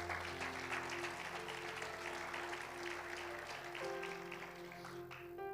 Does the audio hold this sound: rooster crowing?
no